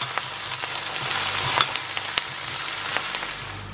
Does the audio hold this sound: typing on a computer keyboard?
no